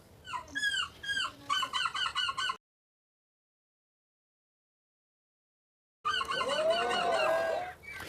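Contestants at a seagull call competition in Belgium imitate seagull squawks with their voices, giving a run of sharp, rhythmic, nasal cries, then a gap of silence, then a longer, wailing squawk, loud and close.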